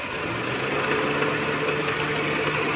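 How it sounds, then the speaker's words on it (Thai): A Honda car engine idles steadily and close, a continuous even hum with a low rhythmic throb and no change in pace, alone without voices. "ตอนนี้เครื่องยนต์ทำงานปกติ"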